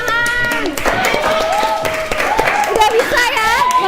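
Scattered hand clapping from a small class after a student group presentation, brief sharp claps mixed into overlapping voices and chatter in a room.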